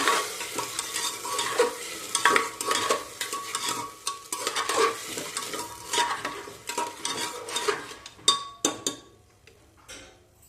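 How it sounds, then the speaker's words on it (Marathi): Black field beans stir-fried in hot oil for a spicy curry, with busy scraping and stirring over a crackling sizzle and a few sharp clicks against the pan near the end. "हा जो काळा घेवडा घेतलेला होता हा या तेलामध्ये घालायचा आहे आणि परतवून घ्यायचं आहे"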